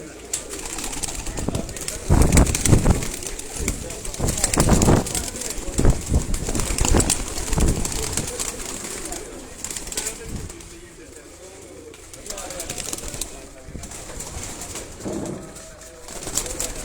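Racing pigeons coo in a loft amid rustling and wing flaps, a busy steady murmur with louder bursts, while people talk nearby.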